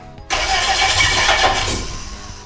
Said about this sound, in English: that's the sound of an engine starting